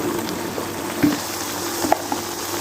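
Cubed eggplant and potatoes, half a kilo of eggplant, frying together in a pan for aloo baingan curry, a steady close sizzle with a few faint clinks and stirring sounds on top.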